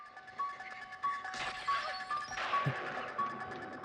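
Candy glass shatters in the film Halloween (1978), sharp crashes and tinkling shards in a couple of bursts over a tense backdrop with faint recurring tones, moderately loud and with no talk.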